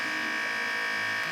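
A Uninet DTF1000 DTF printer running its self-cleaning cycle gives a steady mechanical buzz with a constant whine, close and even throughout, with no talk.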